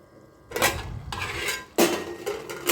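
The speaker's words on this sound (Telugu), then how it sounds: "అప్పుడప్పుడు కలుపుకుంటూ ఉండాలండి, లేకపోతే అడుగంటుతాయి." Metal spoon stirring tomatoes in a cooking pot, a few loud scraping clanks against the pot in separate bursts, close up with no talk.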